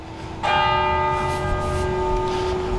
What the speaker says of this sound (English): Those bells obviously signify the fact that it's exactly 5 o'clock.